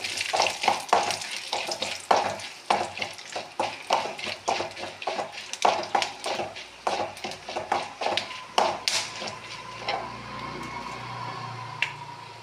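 Whole spices such as cinnamon, cloves, cardamom and dried red chillies are dry roasted with coconut in a pan for a hotel-style mutton curry, giving rapid dry scraping and rattling strokes that fade to a quieter stretch near the end.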